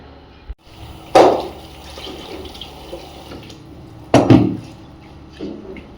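Chopped vegetables and masoor dal being washed in water in a home kitchen, two brief splashing pours over a quiet background with faint handling sounds in between.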